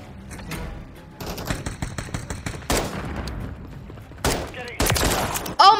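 Semi-auto gunfire in the Call of Duty MW3 video game: repeated sharp shots and bursts in uneven clusters, loud and close, with game effects between them.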